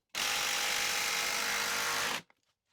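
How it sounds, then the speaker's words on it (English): A right-angle power screwdriver drives a screw into wood blocking behind drywall, giving one steady high-pitched motor whir for about two seconds before stopping abruptly. "having that right angle screwdriver just is really handy"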